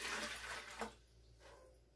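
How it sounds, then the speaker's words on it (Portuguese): Water poured into a blender at the start of a beet, orange and ginger juice recipe, a bright splashing rush that fades after about a second into quiet room tone. "Primeiro você coloca a água"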